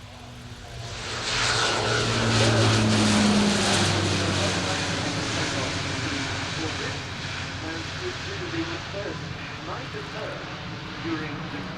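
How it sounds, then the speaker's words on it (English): An Alenia C-27J Spartan military transport of the Italian Air Force performs a short takeoff at an airshow display, its broad propeller-engine roar swelling loud and steady, then holding as it climbs away over crowd murmur. "the short takeoff in question being performed by the Alenia C-27J Spartan."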